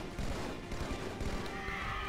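Battle rifle fire in the video game Halo 2 comes as rapid, close bursts of gunshots over a dense background of game noise, fairly loud and continuous across the short span.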